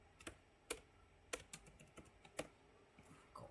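Someone types on a computer keyboard at a desk, with quiet, irregular key clicks and a few sharper taps spread through a short burst.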